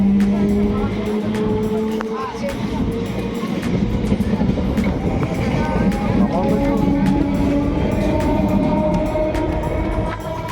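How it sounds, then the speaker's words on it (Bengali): A train on the Howrah–Haldia line rumbles along with a loud, steady clatter of wheels and carriages that lasts the whole stretch, while people talk over it. "ট্রেন আমাদের মুর্শিদাবাদ স্টেশনে নামিয়ে দিয়ে চলে গেল তার গন্তব্যের দিকে"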